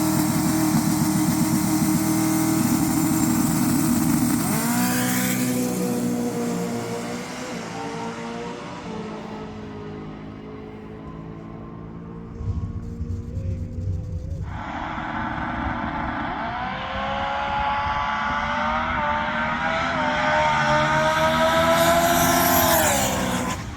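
A turbocharged Coyote-engined Ford Mustang makes a drag strip run: a loud, close engine roars and climbs through the revs with clear gear shifts, dips briefly midway, then pulls hard again to a high-pitched finish.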